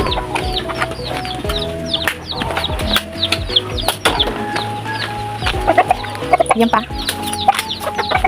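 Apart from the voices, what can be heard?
Texas chickens clucking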